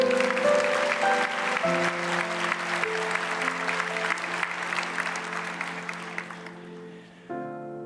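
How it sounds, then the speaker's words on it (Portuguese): Applause from a church audience during a sermon, a broad steady wash of clapping, with sustained organ or keyboard tones underneath, fading as the clapping dies away near the end. "Vocês aplaudiram"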